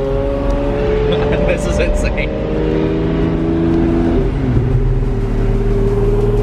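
Lamborghini LP580 driving in Orange County with the doors up, a loud close engine drone rising and falling in pitch as it revs, with people talking over it.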